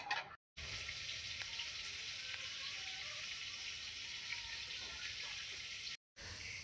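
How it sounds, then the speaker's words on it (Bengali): Fish curry bubbling in a covered pot while cooking potatoes, a steady close hiss of simmering and sizzling that runs unbroken apart from two short silent gaps. "ঝোলটা ভালো করে ফুটবে।"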